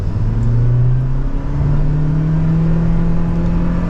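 A 2023 Toyota Prius Limited in sport mode accelerates hard on the road, its engine note climbing steadily in pitch as it gathers speed, a loud, continuous whirring drone heard from inside the cabin with no talk.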